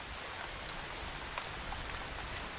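Steady video game rain pattering continuously, a dense hiss of drops with a few louder individual splashes, no voices.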